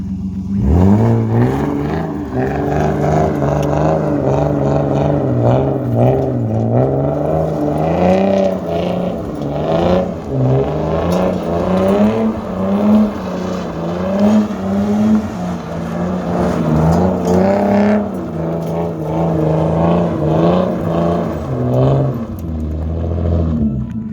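A Nissan 240SX S13 engine on a test drive, loud and close throughout, its mid-pitched drone rising and falling as it revs up and settles, with no talking over it.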